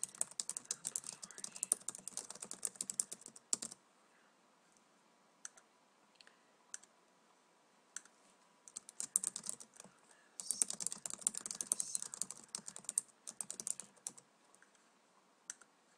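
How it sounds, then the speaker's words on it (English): Typing on a computer keyboard while filling in a newsletter signup form, close and clear, in bursts of rapid key clicks separated by short pauses and a few isolated taps, with no talking. "Here, type in whatever you want."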